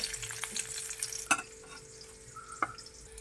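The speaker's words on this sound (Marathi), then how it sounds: "चला तर आपण भाजीला फोडणी टाकूया" Soft, quiet sizzle of tempering frying in oil in a pan for chilli curry, broken by two sharp metallic clinks of a utensil.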